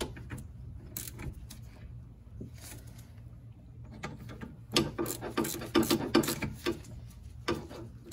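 Ratchet tightening bolts on a Honda Civic trailing arm during a bushing replacement, with a few scattered clicks first, then a louder burst of rapid ratcheting strokes near the end in a quiet workspace.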